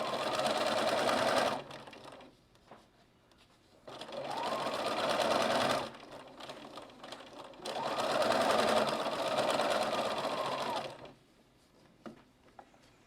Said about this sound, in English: And back stitch again, and we are sewed up here.